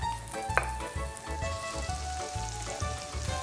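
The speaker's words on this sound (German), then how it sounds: "Jetzt kommt der Spargel in die Pfanne." Green asparagus pieces sizzle and crackle steadily in a hot frying pan, close and continuous, with a brief clatter as they go in.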